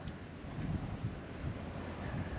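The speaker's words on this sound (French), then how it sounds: "Et là il y a du vent, du vent, du vent." Steady wind blowing hard and carrying sand along the ground near Zagora, a continuous broad rushing with low buffeting, no voices.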